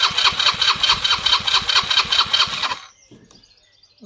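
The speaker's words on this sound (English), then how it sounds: "Let me get the throttle wide open and give it a go." An engine runs at wide open throttle with a loud, throbbing, fast-pulsing roar, then cuts out abruptly near the end, leaving only faint clicks and rustle.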